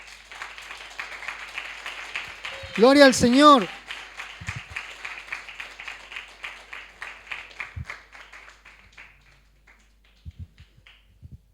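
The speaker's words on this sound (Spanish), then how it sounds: "Dale un aplauso si querés." A church congregation at a Christian sermon claps in a dense, moderately loud patter under a loud shouted praise, then the clapping thins and fades to scattered claps.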